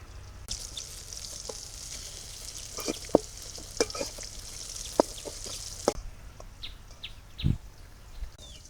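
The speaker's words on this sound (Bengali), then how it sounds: "লাল লাল করে বেগুন ভেজে নিই আমি বেগুনগুলো এপাশ ওপাশ করে দেই" Eggplant slices fry in hot oil in a home kitchen, a soft, steady sizzle punctuated by scattered clicks and knocks as the pieces are turned, with a faint bird call in the background.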